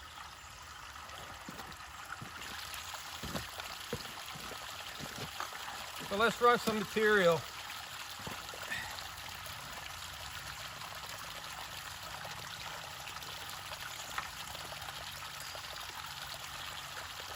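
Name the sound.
water running over a gold prospecting sluice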